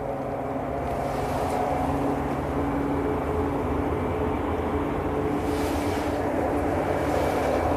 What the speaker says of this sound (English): we've got an EasyJet down at the bottom of the runway.